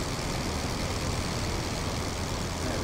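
A late-war propeller airplane's engine drones steadily and loudly in a flight video game, a continuous broadband roar that holds level throughout with no pauses.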